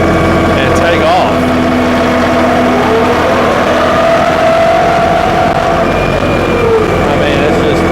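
A New Holland Workmaster tractor pulls away from a dead stop in high range, and the engine drones loud and close with a gradual pitch rise as it takes off. Someone talks over the steady engine noise.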